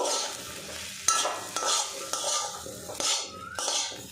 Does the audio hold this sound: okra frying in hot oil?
yes